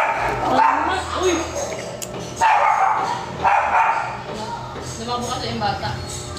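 A dog barks and yips in several loud, close bursts, with people talking around it in a residential setting near a gate.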